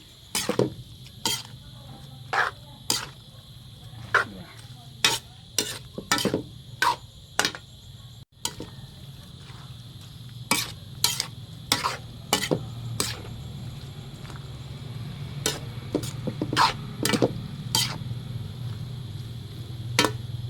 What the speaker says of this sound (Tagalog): Halo-haloin na natin.